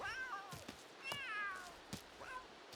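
A cat in the video game The Sims 3 gives three separate meows, each a rising-then-falling wail spaced about a second apart, fairly close over a quiet background.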